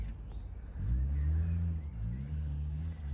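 A rally car accelerates on a field track at a rally event, a deep engine rumble that swells sharply after a brief lull and holds loud and close, with rising harmonic tones as it picks up speed.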